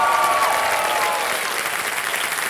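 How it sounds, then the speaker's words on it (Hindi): A studio audience on the Kaun Banega Crorepati game show applauds in a dense, steady burst that fades slightly toward the end. "तालियां बजती रहे हमारे कंटेस्टेंट के लिए।"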